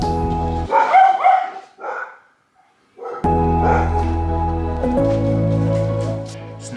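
Dogs greeting someone arriving home in Cape Town bark in a few short bursts near the start, then after a brief quiet gap a steady hum with faint yelps continues; no speech.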